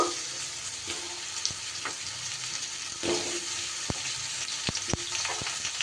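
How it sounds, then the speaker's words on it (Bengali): Potato and pumpkin fry in a pan, a continuous close sizzle with several sharp clinks and scrapes of a spatula stirring against the pan in the second half. "আলুটা এক মিনিটের মতো ভেজে নিয়ে এবার আমি কুমড়োটা দিয়ে দেব"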